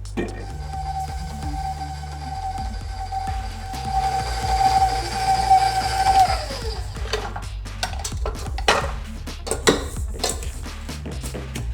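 Butter and sugar creaming in a mixer, a steady mechanical whir with a bright tone that drops away partway through, followed by scattered clatter and knocks of the bowl and utensils.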